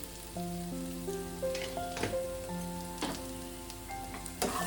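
Chicken filling with turmeric and salt fries in a pan for stuffed paratha. A faint, crackling sizzle with a few sharper pops sits under soft background music.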